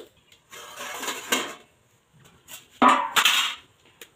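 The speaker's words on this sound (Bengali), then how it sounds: "এবার ঢাকনাটা খুলবো।" Lid lifted off a steamer pot holding a steamed palm cake, giving a few metallic clanks and scrapes in two short bursts, close and fairly loud with no talking.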